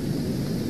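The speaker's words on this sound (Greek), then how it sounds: "Ξεσπάει μια δυνατή βροχή και έρχεται ένα σφοδρό χαλάζι." A violent thunderstorm with heavy rain and hail, a steady loud roaring wash of downpour that holds without a break for under a second, no voices.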